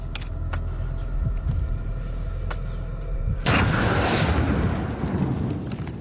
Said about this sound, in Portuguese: Primeiro 30 gramas de pólvora.